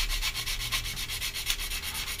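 Filler is sanded on a Hasegawa 1/48 Harrier GR7 plastic model kit: quick, close, rhythmic back-and-forth rasping strokes, about four per second, with no talking.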